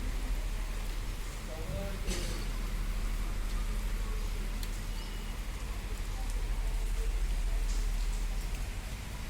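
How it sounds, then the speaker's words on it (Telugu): Heavy rain falling steadily since the night, a dense continuous hiss that stays even throughout, with a voice briefly audible in the background. "వర్షం చూడండి బాగా నైట్ నుంచి ఇలా వస్తూనే ఉంది వర్షం"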